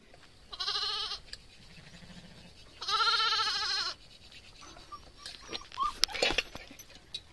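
Goats bleat on a hillside, two loud wavering calls in close succession, then scattered rustling and small knocks; no talk.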